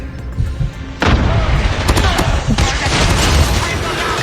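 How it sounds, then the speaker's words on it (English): Hip-fire gunshots in Call of Duty Mobile, played on a phone, crack out loud and close, then settle into a dense, continuous barrage of rapid automatic fire with booming impacts that carries on to the end. "What you saw right there was hip fire."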